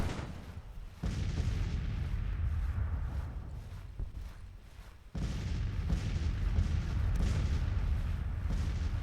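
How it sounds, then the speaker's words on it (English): Artillery fire in the Civil War strategy game Grand Tactician, heard as a continuous loud, dense rumble of distant cannon booms rolling together, with a brief dip before it surges back to full strength. "Oh, they're under artillery fire."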